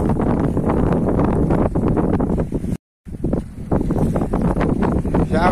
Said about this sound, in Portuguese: Estamos aqui a 3 a 4 quilômetros da costa.